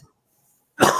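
One sharp, close cough bursts out after a brief silence, loud and alone, from a man joking around with friends.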